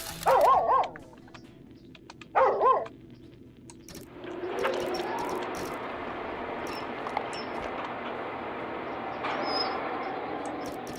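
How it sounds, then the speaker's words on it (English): A dog in the Infinifactory puzzle game gives two short, loud barks close together near the start, after which a low game hum and ambient tones carry on to the end. "It's a dog."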